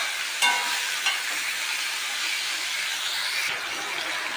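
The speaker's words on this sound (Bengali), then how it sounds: "চলো পেঁয়াজটা একটু ভাজা করে নিই।" Onions frying in hot oil with fried chopped garlic give a continuous close sizzle. A few sharp scraping clicks of a spatula stirring the pan come near the start and again toward the end.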